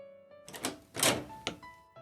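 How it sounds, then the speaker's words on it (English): Door opening as a sound effect in a visual novel game: a short series of close knocks and thunks from handle and latch, with one heavier thud in the middle, over a faint musical tone. "I hear the door open, and someone walks in"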